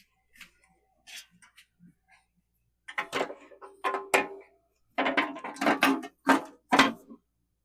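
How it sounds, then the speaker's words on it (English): Embroidery machine cover being fitted back on during maintenance: a run of sharp plastic clicks, knocks and snaps, sparse at first then denser, close and fairly quiet with no talk. "So I'm going to replace the cover."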